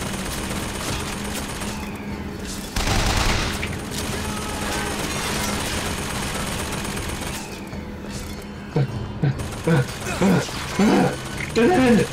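Rapid gunfire in the video game Bioshock Infinite, continuous volleys of shots with a louder burst near the start, under a voice that talks and cries out.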